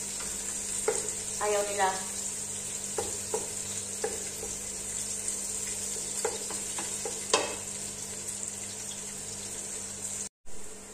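Crushed garlic fries in a pan with a low, continuous sizzle, broken by a few soft scrapes and stirring clicks; a brief voice is heard near the start.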